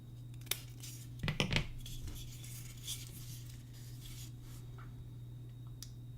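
Scissors snip ribbon in a few quick, quiet cuts clustered together, set against a steady low hum in an otherwise calm indoor craft space.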